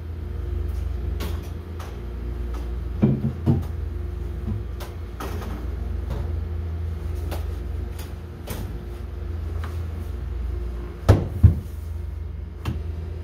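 Cryogenic freezer door at minus 50 degrees Celsius, opened and closed with clicks and heavy thuds around a low steady refrigeration hum, loudest toward the end.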